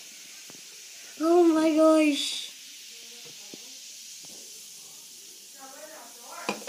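A bath bomb fizzes in orange Lucozade, making a soft, steady hiss that continues throughout, while an excited voice briefly exclaims over it.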